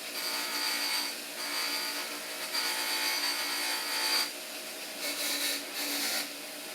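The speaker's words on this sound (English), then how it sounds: "I'm going to put it on the grinding wheel and take a little off right there" Bench grinding wheel taking a little metal off a part, a steady broadband abrasive rasp running almost continuously at close range, briefly easing between passes, with no talk.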